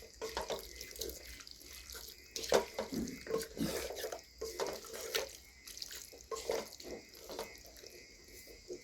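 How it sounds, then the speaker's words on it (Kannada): Water poured into a pot of biryani being cooked, a splashing, gurgling pour with uneven bursts and trickles, close by, with a voice faintly in the background. "ಈಗ ಸ್ವಲ್ಪ ವಾಟ್ರ್ ಹಾಕ್ತಾಯಿದ್ದೀನಿ, ಸಾಕು."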